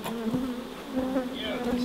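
A steady, close buzzing hum of many wild honeybees swarming around an exposed comb hive being removed from a kitchen cupboard, continuous and even throughout with no talking.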